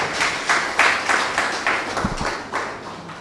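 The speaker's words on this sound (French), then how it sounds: "que je vous prie d'applaudir" Applause for an invited guest at a gathering, a steady patter of many hands clapping for a few seconds, fairly close and without speech.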